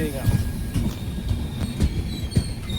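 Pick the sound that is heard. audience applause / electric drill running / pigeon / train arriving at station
train arriving at station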